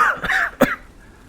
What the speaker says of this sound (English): And he coughs.